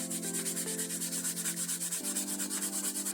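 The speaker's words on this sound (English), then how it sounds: "I like to take a damp rag, not too wet, just enough, and wipe off all the debris that was left over from the sandpaper" A damp rag rubbed back and forth over laser-engraved wood after sanding, making a steady, close scrubbing sound with a hum of background noise and no talk.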